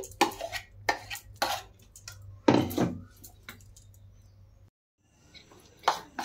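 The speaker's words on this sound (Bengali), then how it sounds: "ডাল একটুখানি ভালো করে ফেটিয়ে নেব আমি।" Ground urad dal paste is beaten in a bowl, producing a string of sharp spoon or whisk knocks against the bowl separated by brief pauses. The strokes are close and clear, and no one speaks.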